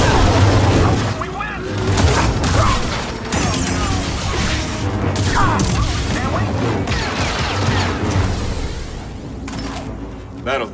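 Booming cannon or blaster fire crashes through a battle in Star Wars Jedi: Survivor, dense mechanical rumbles and blasts under voices speaking over the action.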